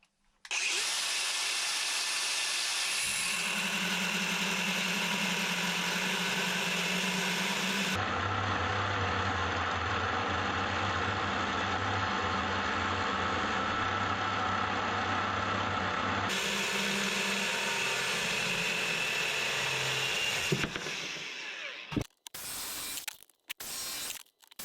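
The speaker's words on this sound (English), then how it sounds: "the best solution is just use a angle grinder" An angle grinder cuts through a metal floor joist during a floor repair: a loud, steady, high-pitched whine runs for about twenty seconds, its tone shifting as the disc bites, then cuts out and a few clunks follow.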